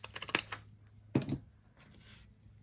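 Decorative scissors snip through paper while trimming the end of a printed Halloween ticket: a quick run of close, crisp cuts followed by one louder snip, then quiet rustling.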